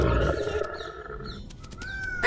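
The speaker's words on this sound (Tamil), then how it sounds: "அது சிங்கராஜா வேட்டையாடுறாரு." A lion roars while hunting, the sound coming from a fairly close distance. A low, rumbling call with tonal overtones lasts about a second and a half, and sharp clicks and chirps follow in the background.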